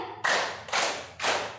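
Three group hand claps on a count during a classroom ice-breaking exercise, each a sharp burst with a short decaying tail, evenly spaced about half a second apart, loud and close with no talking.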